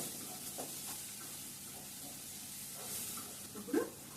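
Chicken pieces frying on high heat in a pan for mango chicken, a faint steady sizzle with a few soft stirring clatters, no talk.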